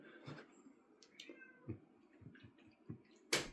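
A cat meows several times in short, scattered calls at close range with a sharp ending cry, set against a quiet indoor background, with small clicks in between.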